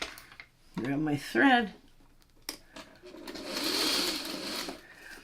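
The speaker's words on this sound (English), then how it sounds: "I just want to go on that stitching line so I have that perfect 1/4 inch seam allowance that I need" A sewing machine runs a quarter-inch seam along a stitching line on quilt patchwork, a steady mid-length whir after someone speaks briefly.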